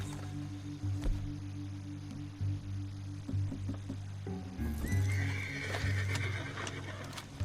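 A horse neighs and whinnies in a video game, with clip-clopping hooves and a low hum beneath, the whinny growing louder and fuller in the second half.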